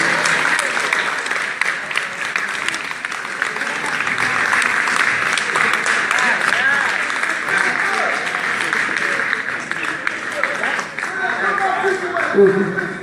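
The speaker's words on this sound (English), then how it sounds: "Please give yourselves a nice round of applause." An audience at a survivors of violence event applauds in a sustained, dense wash of clapping that stays steady for the whole stretch, with voices and cheers mixed in.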